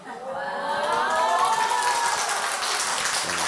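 A church congregation claps in a broad, sustained wash of applause that swells and then holds steady for a few seconds, fairly close and with no voice over it.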